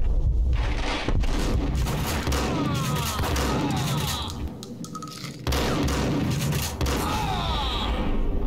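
Gunfire in the PC game Max Payne: several sharp gunshot bursts and booms interrupt a dense game soundscape, loud and close, with a brief quieter gap near the middle and no clear speech.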